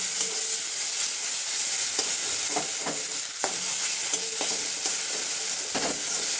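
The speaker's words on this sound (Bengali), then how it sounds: "মশলাটা পেঁয়াজের সঙ্গে ভালো করে কষিয়ে নিলে রান্নাটাও ভালো হয়" Spice paste sautéing with onion in a pan: a loud, continuous sizzle and hiss, broken now and then by stirring scrapes and clatters, with no talk.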